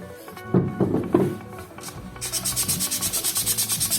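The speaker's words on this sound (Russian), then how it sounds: "Сейчас я шлифую это все дело" Sanding a painted wooden box finished in a grey ebony-colour stain, heard as rhythmic rubbing strokes in steady back-and-forth pulses that grow denser and brisker in the second half, close up with no talking.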